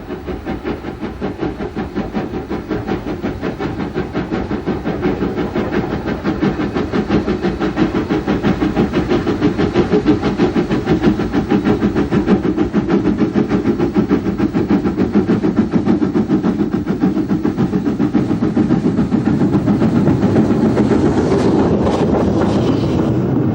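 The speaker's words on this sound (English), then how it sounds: "Thomson produced a standard class K1, one of which is owned by the same group who own Joan, the North Eastern Locomotive Group" An LNER class K1 mogul steam locomotive runs under steady power, giving a loud, continuous rhythmic working sound with rail and engine noise that carries on unbroken and close throughout.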